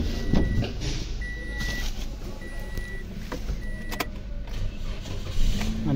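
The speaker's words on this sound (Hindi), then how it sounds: "अब अंदर से गाड़ी चालू करता हूँ।" A Toyota Yaris, under repair for an AC compressor replacement, idles from inside with its engine running, a loud continuous rumble overlaid by repeated short electronic beeps and a few clicks, with no talk.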